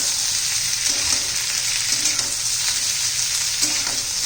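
Chopped onion sizzles in hot oil with ginger and garlic in a pan for a dry capsicum dish, a steady bright crackle with a few soft stirring scrapes and no talking.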